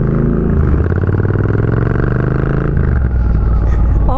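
Custom Triumph Bonneville British bobber motorcycle, engine pulling hard under acceleration with a dense, throbbing exhaust note heard close from a helmet-mounted microphone, the pitch shifting near the end.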